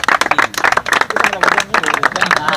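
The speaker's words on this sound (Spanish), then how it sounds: "¡Aplauso!" Crowd at a rap battle applauding and cheering, with dense clapping and shouting voices layered together, loud and close for the whole stretch.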